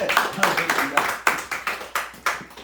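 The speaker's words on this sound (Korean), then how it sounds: "우리 목사님께 감사의 박수 한번 쳐주셨으면 좋겠습니다" A church congregation at a thanksgiving service claps for the pastor, distinct separate claps in a fairly steady rhythm, close and moderately loud.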